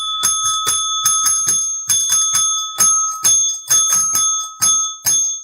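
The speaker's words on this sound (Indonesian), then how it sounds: "Lonceng." A bell rings loud and close, struck over and over in quick, uneven pairs and bursts, about fifteen bright metallic dings. Each ring decays a little before the next, and no one talks.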